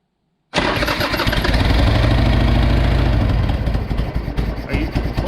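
A Harley-Davidson Sportster 883 motorcycle being restored fires up after a moment of silence, its engine catching abruptly and running loud and close with a deep, steady rumble that roughens slightly toward the end.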